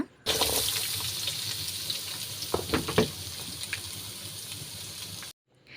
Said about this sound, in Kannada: ಇವಾಗ ಇದನ್ನು ಚೆನ್ನಾಗಿ ಫ್ರೈ ಮಾಡ್ಕೊಬೇಕು ಈರುಳ್ಳಿ ಕೆಂಪು ಬಣ್ಣ ಬರೋವರೆಗೂ ಸ್ವಲ್ಪ ಫ್ರೈ ಮಾಡ್ಕೊಬೇಕು